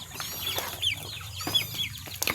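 Pet chickens cluck steadily at feeding time, several birds close by with short overlapping calls and a few higher chirps over a low background hum.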